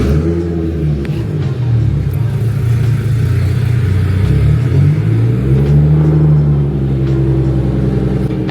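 A Nissan 350z pulls away, its engine a loud, close, steady rumble that rises and dips in pitch as it accelerates, with no voices over it.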